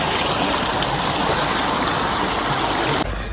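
Clear stream water rushes steadily near Seetharkund waterfall in the Nelliampathy Hills, a dense, continuous flowing wash that holds loud and close before dropping off abruptly near the end.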